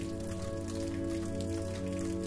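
Steady, dense rain falls continuously, an even wash of patter with no breaks, accompanied by a sustained low tonal drone underneath.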